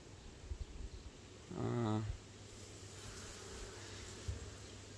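A single honey bee buzzes close by at a hive for about half a second, a low droning hum against a quiet, faintly hissing background.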